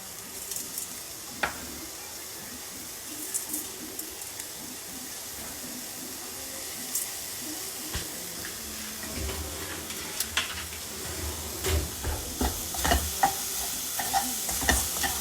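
Raw mango and sugar cook in a pan with a continuous quiet hiss and sizzle. Scattered scrapes of stirring grow busier and more frequent toward the end, heard close with no clear talk.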